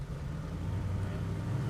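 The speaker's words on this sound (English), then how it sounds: "We're idling real nice, not spitting, not stalling, not backfiring." A 1976 Chevrolet Monte Carlo with a 572 big block engine idling with a low, even rumble, steady and close, with no sputters or surges.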